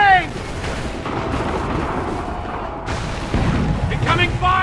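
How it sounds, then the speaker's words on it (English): Artillery and cannon fire in Assassin's Creed III, a dense rumbling barrage of booms rolling continuously under battle noise, loud and sustained with a voice briefly heard. "The enemy is in range! They're firing!"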